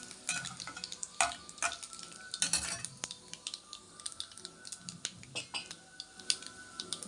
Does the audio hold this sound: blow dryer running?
no